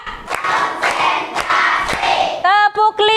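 A classroom group claps out a patterned rhythm of sharp hand claps, several spaced beats mixed with crowd voices, ending in a brief burst of tonal shouting or chanting.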